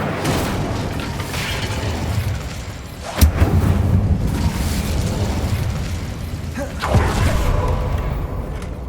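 An Incendio fire spell bursts in Hogwarts Legacy, with two sharp blasts about three and a half seconds apart over a continuous roaring, rumbling battle din.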